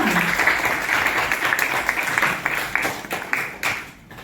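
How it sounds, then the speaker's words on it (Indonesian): A class of students applauding, a burst of many hands clapping at once that stays dense at first, then thins into scattered claps and fades out toward the end. "tepuk tangan untuk kita semua"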